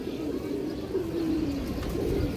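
Low, rolling coos from domestic pigeons carry on steadily for a couple of seconds, near and unbroken, with no voices heard.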